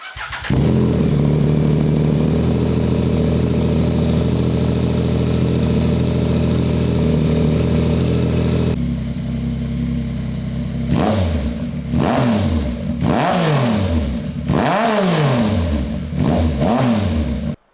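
A 2021 Yamaha MT-09 motorcycle with an aftermarket exhaust fires up and settles into a loud, steady, burbling idle, then gets several sharp throttle blips that rise and fall in quick succession.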